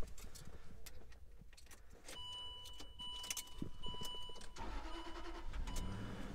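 A $5,000 Land Rover truck's engine cranks and starts, with keys jangling near the ignition, then settling into a steady mid-pitched idle that runs continuously at low level.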